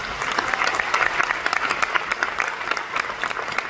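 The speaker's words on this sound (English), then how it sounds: "Give them a big round of applause." Sustained, dense applause from an audience at a recognition ceremony honouring company ambassadors, a steady wash of many hands clapping at close range with no break.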